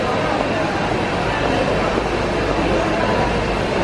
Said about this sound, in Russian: мы находимся на вокзале в Неаполе, и сейчас мы первый раз поедем по Италии на поезде